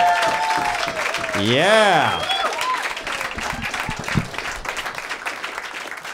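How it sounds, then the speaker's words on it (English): Audience applause and cheering at a stand-up comedy show swell loudly and hold steady for several seconds, with a rising whoop near the start and a host talking over the clapping. "keep clapping for your next comic"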